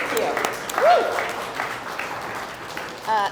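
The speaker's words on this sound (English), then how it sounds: "join me in giving yourselves a round of applause while you're filling out those cards" Gala audience applause, a round of clapping heard faintly under a speaking voice and whoops, with a brief cheer near the end.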